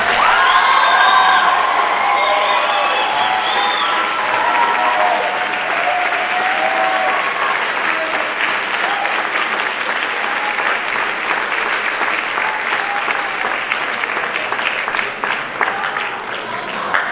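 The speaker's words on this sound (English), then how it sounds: "Let's give them a round of applause." Audience applause for school band students at a high school band awards concert, a loud sustained clapping crowd with some cheers and whoops, steady throughout and slowly thinning.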